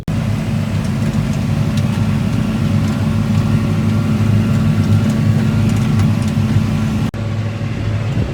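A heavy tractor engine drones steadily and loudly during planting, a deep constant rumble with a brief dropout near the end before it continues.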